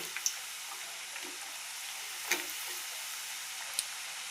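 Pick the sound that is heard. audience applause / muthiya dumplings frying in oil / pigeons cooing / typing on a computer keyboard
muthiya dumplings frying in oil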